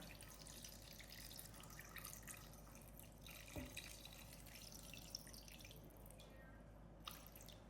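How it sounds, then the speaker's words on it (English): Water runs quietly from a tap into a pot over chicken, a faint continuous trickle with a few soft drips and clinks. "So now the trick is to cover the chicken with water."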